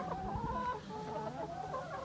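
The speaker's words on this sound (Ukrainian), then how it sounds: "кури, тікайте отсюди" Several chickens cluck steadily nearby on a farm beside a Dongfeng-244 tractor, overlapping murmuring calls with a faint higher cackle.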